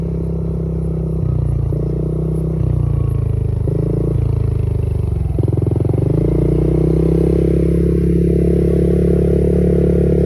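Motorcycle engine idling and revving in short bursts on a ride through a village in Kinmen, with a steady loud rumble and rises in pitch as the throttle opens, close and continuous.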